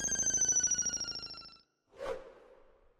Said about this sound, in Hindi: छेदी भाई को फोन लगाती हूँ